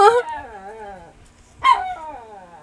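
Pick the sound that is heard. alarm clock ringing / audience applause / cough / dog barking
dog barking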